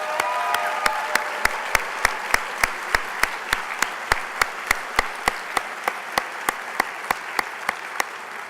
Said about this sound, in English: I'd like to just give one more round of applause to all our nominees and award